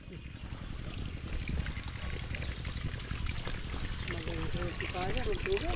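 Water pours and trickles steadily onto bitter gourd plants in a garden, a soft continuous splashing stream with people talking over it.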